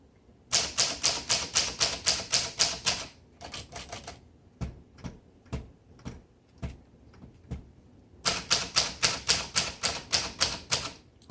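A brown 1941 Corona Sterling vintage typewriter clatters through two fast runs of crisp, close keystrokes, separated by slower isolated clacks and thumps.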